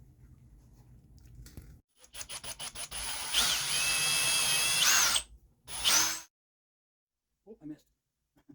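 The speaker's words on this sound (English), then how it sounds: "So I'm just going to use a dowel, drill out the ends" A power drill bores out the ends of a wooden dowel for guitar strap locks on a Squier Bronco, in several short whining bursts with pauses, close and fairly loud, broken by a few gaps.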